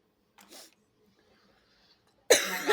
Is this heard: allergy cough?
yes